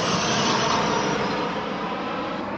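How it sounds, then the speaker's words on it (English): A plane flies overhead above a frozen lake at Utah Lake State Park, a loud, steady broadband engine roar that holds constant and fades only slightly, with no talking. "I got a plane flying overhead"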